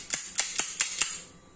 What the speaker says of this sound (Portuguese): Aqui ele trava para o disparo.